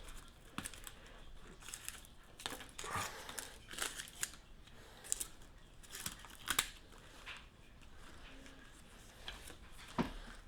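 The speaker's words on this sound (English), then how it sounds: "So I'll just lift up the leaves here and then start cutting off everything else." Scissors snip away indoor houseplant leaves in close, crisp cuts, coming irregularly with brief rustles of foliage between them.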